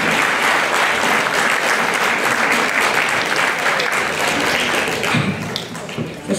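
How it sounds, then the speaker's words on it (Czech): An audience claps warmly for children at a folk singing contest in a Czech village, loud dense applause that thins and fades toward the end. "Podpořte jich potleskem,"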